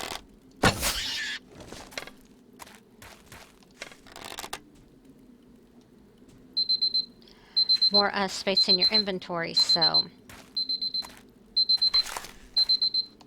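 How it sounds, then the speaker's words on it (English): A timer alarm in the game 7 Days to Die Alpha 13 rings as repeated short bursts of high beeping. Someone talks over part of it. "Okay, I'm going to stop my timer"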